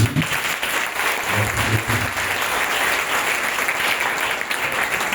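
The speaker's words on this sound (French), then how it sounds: "On va acclamer encore pour lui." Loud, dense applause from an audience at a church seminar on life in the Spirit, a steady wash of clapping hands that holds for several seconds.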